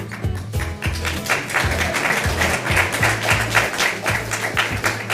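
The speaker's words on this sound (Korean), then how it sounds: "박수가 후한 것 같습니다" An audience applauds at a political gathering in Yeouido, Seoul, with dense, steady clapping that runs unbroken for about five seconds.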